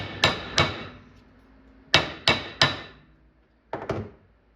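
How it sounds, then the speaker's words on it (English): A hammer strikes a bent metal part from an arcade cabinet to straighten it, ringing out in sharp, loud metallic blows: two quick hits, a pause, three more in steady rhythm, then a final pair, each fading quickly. "I'll probably just put it right on here and hammer it real quick."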